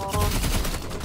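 A shotgun blast in the Roblox shooter game Rivals, a single heavy, loud boom with a rumbling low tail filling the short moment, close and alone without talk.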